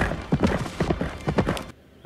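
Rapid clip-clop of horse hooves close by, mixed with a horse's whinny, ending abruptly in near silence.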